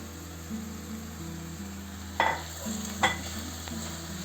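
Washed rice quietly sizzles as it is sautéed in a pot under a steady hum, and a spoon scrapes through it twice.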